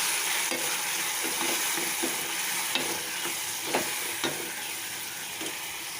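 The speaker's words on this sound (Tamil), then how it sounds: "இது கொஞ்சம் நல்லா ட்ரையாக வதங்கட்டும்." Tomatoes and salt sauté in a pan for a kuzhambu, with a loud, continuous hiss broken by occasional scraping stirs and small clicks of a spoon against the pan.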